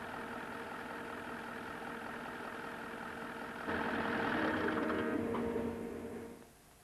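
Diesel fuel injection pump running on a calibration test machine at set speeds and rack settings, giving a steady mechanical drone that grows louder and busier midway, then fades at the end.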